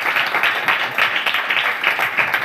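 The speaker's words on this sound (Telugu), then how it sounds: "నమ్మితే చప్పట్లు కొట్టండి" A congregation claps steadily and densely throughout, a loud continuous wash of many hands with rhythmic surges, close and sustained.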